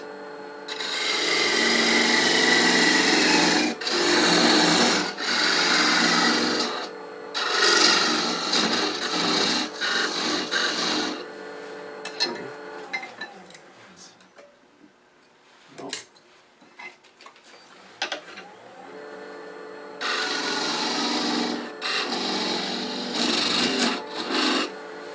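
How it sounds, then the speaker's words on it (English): A parting tool cuts into wood spinning on a lathe while a gnome ornament is being made: loud rasping scrapes in long bursts, a quieter stretch with scattered taps midway, then another cutting burst. "Again, we use our parting tool."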